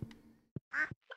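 Cartoonish duck quacks from the Stardew Valley farming game, a few short separate calls close together over a faint background hum, with no talking.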